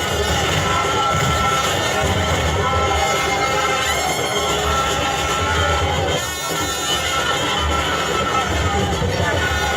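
A massive jubilant crowd welcoming an APC governorship candidate in Edo, Nigeria, loud continuous cheering, shouting and babble from many voices, dense and close throughout.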